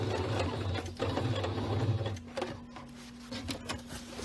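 Sewing machine stitching a diagonal line across a tote bag runs as a steady, close mechanical whir and rapid needle chatter, with the motor tone changing partway through as the stitching continues, and no talking.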